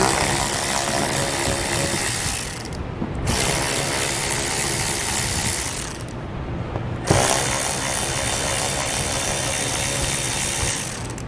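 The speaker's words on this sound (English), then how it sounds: "And we'll take a 7mm socket. We'll remove the 5 bolts." Ratchet wrench with a 7mm socket clicking steadily as it backs out bolts along the lower fascia of a 2018 Chevrolet Volt, loud and close with a couple of brief pauses.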